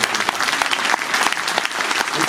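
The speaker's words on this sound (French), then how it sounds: "On l'applaudit quand même" A seated audience at a talk bursts into loud, close, continuous applause, many hands clapping densely for a couple of seconds.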